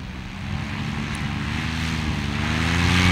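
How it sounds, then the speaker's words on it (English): Paramotor engine droning overhead during a paramotor world championship flight, a steady propeller buzz with rising harmonic tones that grows slightly louder, no talk. "WPGA Paramotor World Championships. Troy set a new record yesterday of 8"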